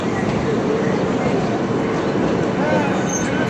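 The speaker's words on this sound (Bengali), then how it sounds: "আমাদের কিন্তু ট্রেন ছেড়ে দিল 22912 ছেড়ে দিল কিন্তু হাওড়া থেকে" Express train 22912 pulls out of Howrah station in Kolkata, producing a steady, loud rolling rumble with faint wheel squeals, heard from inside the carriage with a murmur of voices underneath.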